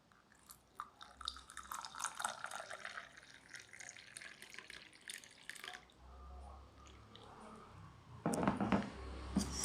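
Hot milk being poured into whipped coffee, a faint close trickle and splash of liquid with small drips, growing a little louder near the end.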